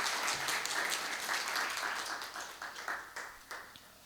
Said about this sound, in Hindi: जरा इनके सम्मान में भी ताली बजाओ एक बार